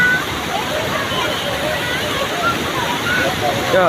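Steady, loud rush of overflowing lake water pouring and churning at Medchal, a continuous roar with some faint voices mixed in underneath.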